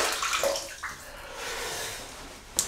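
Running water from a tap splashes into an old shaving mug, a steady close hiss and gurgle lasting a few seconds with a small knock at the end.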